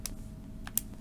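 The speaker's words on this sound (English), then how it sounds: "you should be able to type in your calculator" Keys on a calculator are pressed: a few sharp, close clicks spaced irregularly over a quiet background.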